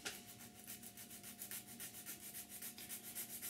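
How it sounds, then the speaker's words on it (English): A thin sanding stick rubs back and forth over a small plastic part of a 1/48 scale Eduard MiG-29 model kit in quick, even strokes, a close, soft rasping rhythm with no talk. "we can just sand it down with a little thin sanding stick across the bit"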